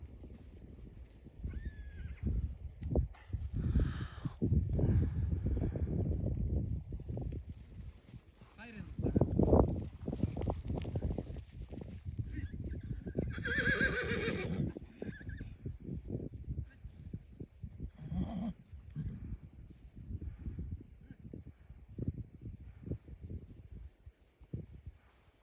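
Horses and foals whinny and neigh amid shuffling hooves and a low rumble of movement as foals are caught for tethering on a Kazakh farm, with people talking intermittently over the commotion.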